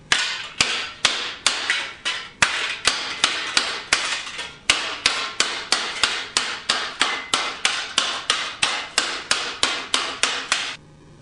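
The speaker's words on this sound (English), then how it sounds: "you can just smooth that a little bit on the post dolly and then go back and stretch some more" A hammer pounds a sheet metal fender for a chopper motorcycle against a post dolly. Around thirty sharp, evenly paced metallic blows ring out close and loud in a steady working rhythm, with no talk.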